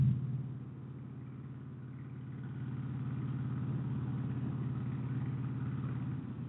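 Cruiser motorcycle engine rumbling steadily while being ridden hard, a continuous low growl with no speech.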